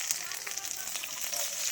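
Chillies hitting a hot pan produce a steady, close crackling sizzle with scattered pops, carrying on evenly through the short moment with no voices over it.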